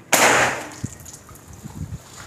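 A single sharp shot from a Ruger AWM Black Army PCP air rifle, one loud crack at the start with a brief decaying tail, followed by faint handling clicks.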